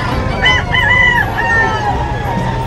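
A rooster (a young stag from a farm) crows loudly and close, a long wavering call with a second rising crow, over a steady low rumble of background noise at a gamefowl expo in Bocaue.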